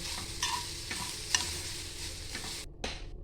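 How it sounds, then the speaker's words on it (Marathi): Two boiled potatoes being mashed together with a spiced vegetable mix in a pan, with close, steady scraping and stirring strokes over a soft sizzle and no voices. "आता ते आपण टाकतो दोन उकडलेली बटाटी आता हे आपण स्मॅश करून घेऊया एकत्र"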